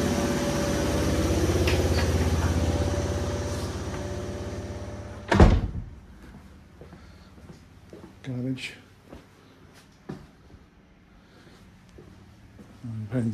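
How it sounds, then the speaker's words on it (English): Steady low mechanical hum of a washing machine running for several seconds, then a sharp knock and quieter sounds of people moving and talking. "as you can hear the washing machine's running"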